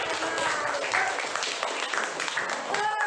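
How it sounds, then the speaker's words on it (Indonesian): A classroom of students claps for a classmate in a steady, dense patter that lasts the whole short stretch, with a few voices mixed in. "Beri tepuk tangan buat Devin"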